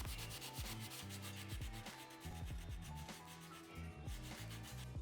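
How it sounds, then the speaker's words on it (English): Wooden dowel plugs on a simple shoe bench are sanded smooth by hand, with steady, rhythmic back-and-forth scratchy strokes heard up close and continuously. "Then I sanded them smooth and touched up the paint."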